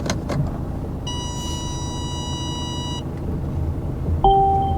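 Mercedes C-Class Estate car starting to move after sitting unused, with a low idling rumble, a steady electronic chime tone for a couple of seconds, then a louder surge with another tone as it sets off.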